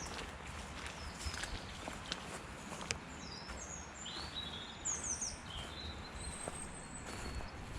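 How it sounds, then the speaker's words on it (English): Birds chirp and call in scattered high bursts around a frozen lake in Walton Park, faint and somewhat distant over a steady outdoor hush, with soft footsteps moving along the path. "There's a lovely sound of birdsong all around."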